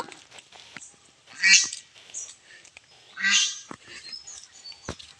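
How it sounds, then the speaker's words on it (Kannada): Two distinct nasal duck quacks a couple of seconds apart, moderately near, at Pilikula in Mangalore, over a quiet background with scattered soft clicks and rustles. "ಪಕ್ಷಿ ಬಾತುಕೋಳಿ ಅದರ ಫ್ರೆಂಡ್ಸ್ ಅನ್ನು ಹುಡುಕ್ತಾ ಉಂಟು"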